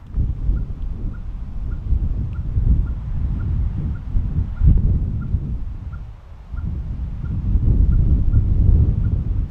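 Steady wind rumbles and buffets the microphone in low, blustery gusts that rise and fall in open country, with a faint repeated chirp in the background.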